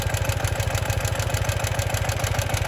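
A Ural motorbike engine runs at a steady idle on a farm, its low, even chugging pulses repeating rapidly and close by with a clattery edge and no speech.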